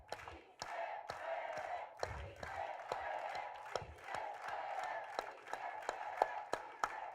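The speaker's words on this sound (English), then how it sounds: "let's all do it with an organized hand clap" A large outdoor rally crowd claps together in a steady, evenly spaced rhythm, sharp claps repeating about twice a second over a continuous murmur of many voices and scattered shouts.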